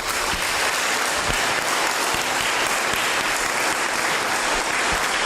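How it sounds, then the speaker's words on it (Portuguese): A church congregation at an evangelical service bursts into dense, sustained applause that stays loud and steady for the whole stretch, with no voices breaking through. "Palmas para Jesus."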